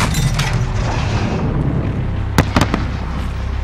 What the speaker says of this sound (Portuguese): sinalizador disparando